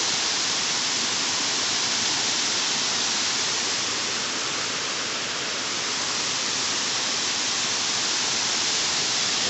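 Water rushing over the top of a tank in a creek that feeds the Cañaveralejo river makes a constant, loud, broadband roar, close by and unchanging, with no voices.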